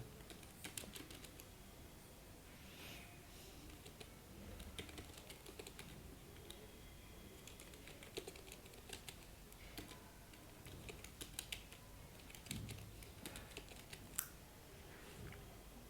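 Fingers type a command on a computer keyboard, a quiet, close, irregular patter of key clicks with a few sharper taps, no talking.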